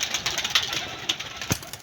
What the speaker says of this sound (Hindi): ये 13 कबूतर हैं, ये बाहर निकल रहे हैं।